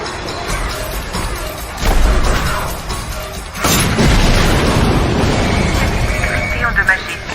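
Booming blasts and crashing debris erupt as a film's security system is blown up, loud and dense in two big surges, with urgent voices shouting over the rumble.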